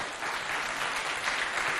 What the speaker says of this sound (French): On applaudit notre pharmacien, s'il vous plaît.